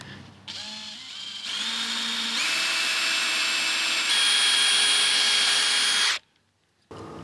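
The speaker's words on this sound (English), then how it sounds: "I'm going to go ahead and drill another hole right above it." A power drill whines steadily for several seconds, its pitch stepping up as it bores into wood in a Victorian house, then cuts off abruptly before a brief restart.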